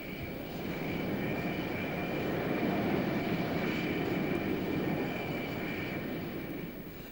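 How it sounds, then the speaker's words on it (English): An F-4 Phantom jet taxiing on an aircraft carrier deck, its engines giving a steady, loud roar with a high whine that swells slightly and then eases, with no talk. "With canopies closed and checks completed, the Phantom taxis to the allotted catapult."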